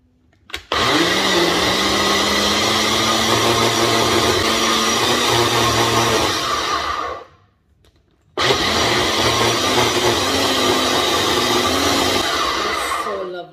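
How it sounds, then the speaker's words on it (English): A Ninja blender whirs steadily as it blends a green seasoning, a loud continuous motor drone that stops briefly around the middle and then starts again for a second run. "I so love this Ninja blender."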